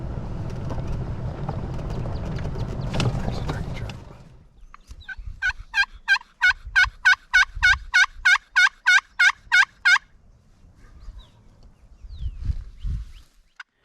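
A wild turkey gobbler gobbles in a rapid, repeated burst after a stretch of rustling noise, followed by low thumping steps; fairly close and clear.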